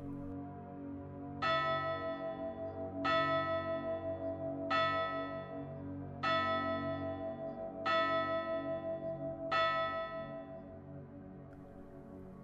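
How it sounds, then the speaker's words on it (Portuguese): A church bell rings six separate, evenly spaced strokes about every one and a half seconds over a steady low background hum, at Corpus Christi time, 6 in the evening, in a church in Minas Gerais. "foi o padre Barreto, procurando saber qual dos coroinhas havia tocado o sino sem a sua autorização."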